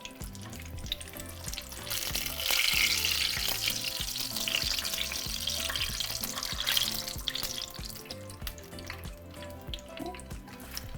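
Chimichangas fry in hot oil with a steady, close crackling sizzle that runs throughout, dense and bright, with small pops and rises in intensity partway through.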